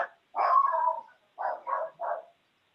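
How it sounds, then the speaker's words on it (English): A dog barks during an Iowa Board of Corrections meeting: one longer, drawn-out bark, a short pause, then three quick barks in a row. The barks are moderately loud and clear, with no talk over them. "Sounds like a dog moved it."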